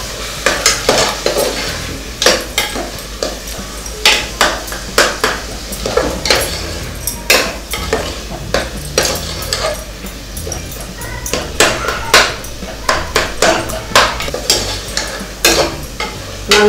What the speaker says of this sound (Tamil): நல்லா வதக்கி நல்லா தக்காளி நல்லா கொதைய வைக்கணும்.